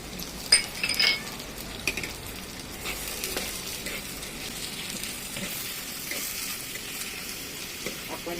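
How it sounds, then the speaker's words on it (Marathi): Peanuts and cashews sautéing in a clay pot for vegetable biryani: a soft steady sizzle with a scraping spoon and a few sharp clinks against the pot near the start, one voice faintly in the background. "म्हणजे थोडं परतू दे"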